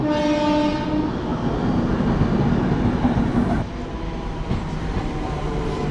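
The Jagannath Express from Puri to Howrah rolls past a station, a loud continuous rumble and clatter of wagons with a sustained horn blast early on, close and alone.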